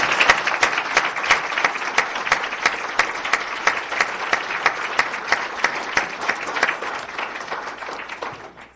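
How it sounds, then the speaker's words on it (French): Loud, sustained applause from the audience at a French-language school board meeting in Ottawa, with crisp individual hand claps clearly audible within the dense clapping, tapering off near the end of nearly nine seconds. "Donc, je pense qu'on pourrait les applaudir."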